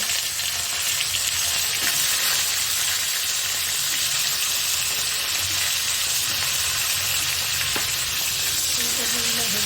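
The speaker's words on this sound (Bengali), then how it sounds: "ফুলকপিগুলো একটু ভেজে নেব।" Cauliflower pieces sizzling loudly in hot oil in a pan, a dense continuous frying hiss close up with occasional stirring.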